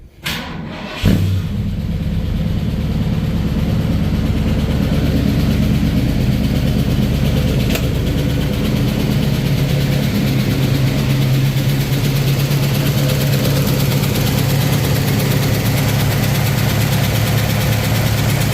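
The engine of a Ford F350 truck with tapping lifters catches and then idles loudly and steadily up close, a constant rumble with a fine ticking running through it and no talking.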